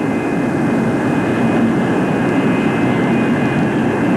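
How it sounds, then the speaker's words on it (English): USAF F-102 jet fighter on the runway during a high-speed ground run near 190 mph, with blown main tires, giving a steady, loud broadband jet roar with a continuous whine and no break across the span. "the airplane was held on the ground until it reached 190 miles per hour"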